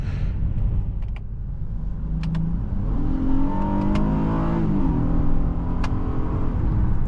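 A 2019 Honda Passport Touring engine accelerates from inside the cabin, a rising, swelling drone that climbs in pitch then levels off, loud and close.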